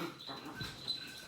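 Dogs get excited and play together nearby, giving faint whimpers, small yelps and pattering movement in a quiet indoor room, heard softly in the background with no one talking.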